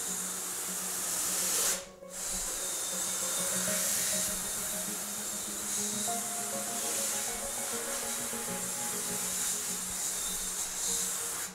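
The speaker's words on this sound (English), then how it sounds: "making sure all the degreaser rinses off the frame" A water spray rinses degreaser off a screen printing frame, a steady close hissing rush that breaks off briefly before continuing evenly, with no voices.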